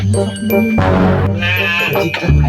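Loud, close sheep bleating rises and falls in several wavering calls, set against a busy background with some faint jingling.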